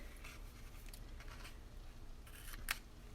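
Scissors snip through paper and card for a Parcels & Petals bundle craft project, a few faint, quick cuts against a soft room hiss, ending in one sharper close click.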